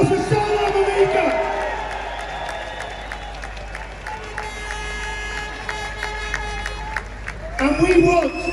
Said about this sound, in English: Let's have a massive round of applause for Salwan Momika.